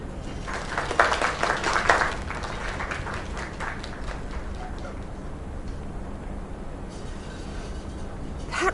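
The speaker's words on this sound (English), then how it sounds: "Another round of applause." Crowd applause at a celebration in the video game Lake, loudest in the opening two seconds before fading into a softer, steady background patter.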